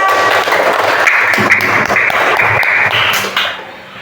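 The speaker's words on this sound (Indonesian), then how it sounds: "Tepuk tangan dari kelompok 3." Applause in an elementary classroom after a group presentation, dense clapping from many hands that fills the whole few seconds fairly close and loud, then thins out and fades at the end.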